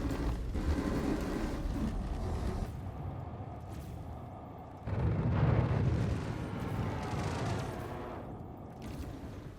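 Spaceship weapons fire and explosions in the Star Citizen space combat game, including the Ares Ion and Inferno, sound as a continuous heavy rumbling barrage with a louder swelling boom midway, dense and close.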